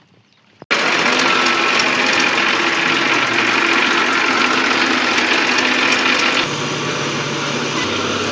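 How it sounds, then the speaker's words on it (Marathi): A tractor engine starts abruptly after a quiet moment and runs loudly and steadily with a rattling, knocking tone as the tractor turns on the spot, shifting slightly in tone near the end. "ड्रायव्हर जागेवरच ट्रॅक्टर विंगत होता"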